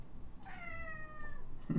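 A single drawn-out cat meow, close and moderately loud, rises and fades against a quiet background.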